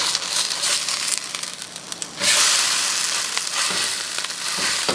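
Food pressed flat into a hot pan and frying while cooking off grid, a scraping, crushing stir followed by a loud, bright, steady sizzle and hiss, close up with no talking.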